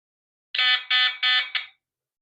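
Four quick electronic beeps from a security camera alarm alert sound in a row, loud and close, the last one shorter, then silence.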